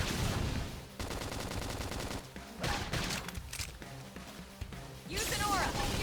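Flame Grenade attack in Xenoblade Chronicles X: Definitive Edition, a burst of rapid crackling blasts and gunfire-like pops in a hectic battle, with loud bursts at the start and end and shouted game voices mixed in.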